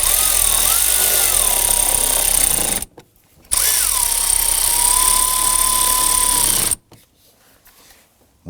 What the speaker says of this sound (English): Let's install the 2 screws on the bottom.